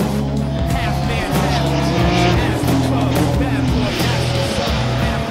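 A Renault Mégane Trophy race car laps the Alès circuit, its engine howling through rising and falling revs with gear changes and tire squeal, loud and close, as a voice talks over it.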